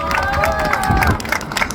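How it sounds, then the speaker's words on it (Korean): An audience at a rally outside the Supreme Court bursts into applause and cheering, a close, dense wash of clapping from a crowd. "박수 한번 부탁드립니다."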